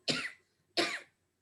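Two sharp, forceful coughs about half a second apart, close and alone, demonstrating the short abdominal exhalations of kapalbhati breathing.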